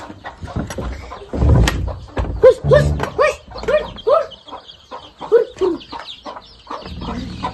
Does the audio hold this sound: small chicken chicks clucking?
yes